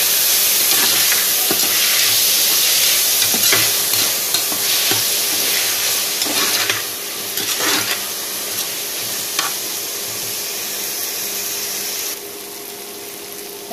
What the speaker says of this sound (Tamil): தக்காளி இது வந்து நல்லா வதங்கட்டும்.